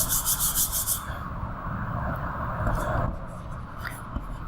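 Marker or chalk rubbing across a classroom board during an English grammar lesson, a steady scratchy scrawl that runs throughout, louder in the opening second, with faint room noise behind.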